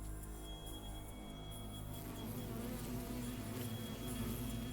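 A bee in a video game buzzes steadily, a faint, sustained droning hum that swells slightly louder toward the end.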